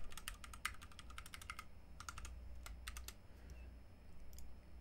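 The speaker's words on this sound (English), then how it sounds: "So we're going to enter our password." Rapid bursts of keystrokes on a computer keyboard as a password is entered at a GNOME login screen on Gentoo Linux, clicking in quick clusters with short pauses, close and fairly quiet over a low hum.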